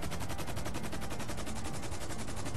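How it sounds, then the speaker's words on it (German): Rapid automatic gunfire in the video game GTA Online, a dense stream of evenly spaced shots firing continuously throughout, loud and harsh with no voices over it. "Ich höre Schüsse."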